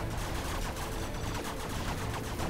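Distant Spectre gunship fire raining down during a base attack in an online multiplayer game match, a dense, continuous barrage of loud gunfire and booms with no pauses.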